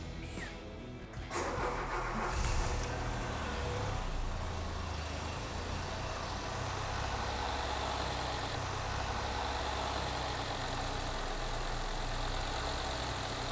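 A Citroën BX GTi engine starts up, catches with a brief rev, then settles into a steady, moderately loud idle that runs on evenly with no talking.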